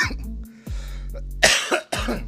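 Several harsh, throaty coughs come in quick bursts, close and loud, with a brief throat-clearing rasp between them.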